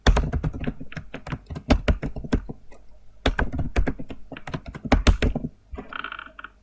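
Keys clacking on a computer keyboard while a restore mode password is entered during Windows Server setup: quick irregular bursts of close, crisp taps, a short pause midway, then more typing ending in a few lighter clicks.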